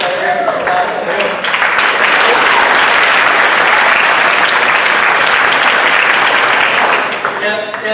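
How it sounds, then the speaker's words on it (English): A crowd at a launch night for a Year 13 class gives a guest speaker a loud, dense round of applause that swells quickly and holds steady for several seconds before fading, with a voice briefly heard at the edges. "also a round of applause for him"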